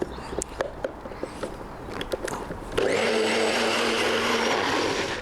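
Kitchen blender blitzing ingredients for a tomahawk steak dish: a few knocks and handling clicks, then the motor kicks in with a loud, steady whirring grind that continues close by to the end.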